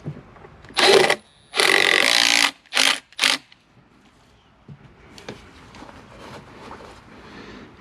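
A power drill drives screws into a wall to mount a hose reel, with four loud whirring bursts of varying length, followed by quieter handling sounds and movement.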